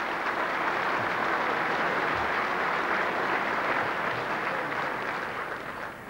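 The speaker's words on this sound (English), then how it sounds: "I'm not too sure if that round of applause is for Shea Fahey or for me" Round of applause at a GAA All Stars awards event, a broad steady wash of many hands clapping in a large room, loud and even throughout, easing slightly at the end.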